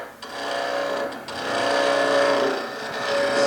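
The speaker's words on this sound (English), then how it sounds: "I'm just going to turn a bit of a flange on here." Wood lathe spinning a tool handle held between centres while a flange is turned, a steady close hum and whine with brief scraping cuts.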